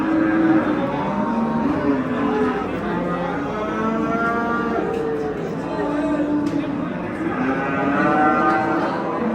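Cattle mooing repeatedly at an outdoor livestock market in Bulungur, Uzbekistan, long low calls overlapping one another, with a murmur of people talking in a busy crowd behind.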